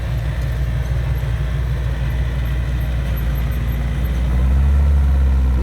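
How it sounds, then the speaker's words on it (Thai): Farm tractor engine running steadily close by, a loud, continuous low diesel rumble that swells slightly toward the end, with no talk over it. "จัดรถไถเองเลย"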